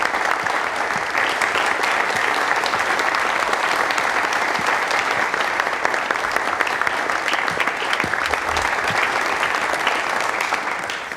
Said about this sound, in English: You will please give a warm welcome to Mr. James Mullinger.